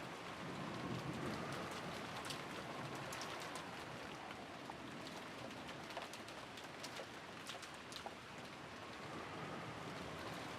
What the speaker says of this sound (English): but disappeared beneath the sound of the rain.